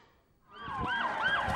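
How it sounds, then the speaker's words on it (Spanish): Wailing emergency sirens from ambulances and police cars race through the streets of central Istanbul after an attack, a loud warbling tone rising out of near silence and sweeping up and down continuously. "decenas de ambulancias y coches de policía recorriendo sus calles a toda velocidad"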